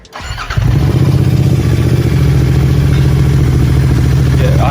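A Royal Enfield GT650 with an RRP full-system exhaust cold-starts with a quick crank, then settles into a loud, steady, throbbing twin-cylinder idle close by.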